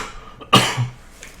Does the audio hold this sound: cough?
yes